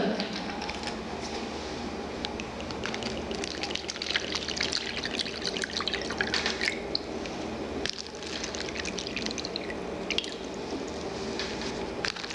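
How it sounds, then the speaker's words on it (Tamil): Water poured from a container into four glasses one after another during a product demonstration. The trickle is close, steady and splashy, with brief breaks as the pour moves from glass to glass. "நான் தண்ணி எடுத்து நாலு கிளாஸ் ஊற்றுறேன்"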